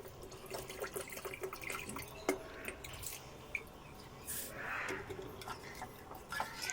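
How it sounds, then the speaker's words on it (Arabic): Water being poured into a pot of rice and orzo, heard as a steady trickle with drips and splashes, fairly close and alone. "انا هحط له ميه"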